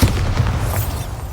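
A Bombarda blasting spell goes off in Hogwarts Legacy, a single deep, heavy booming explosion with a rumbling low tail that stays loud through the moment.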